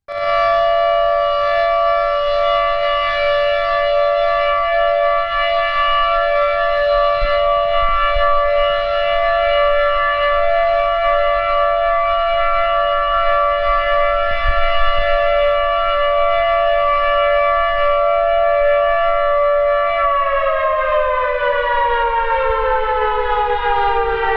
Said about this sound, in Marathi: सकाळी 10:59 ते 11 वाजेपर्यंत या वेळेत मौन पाळण्याची सूचना देणारा सायरन वाजविण्यात आला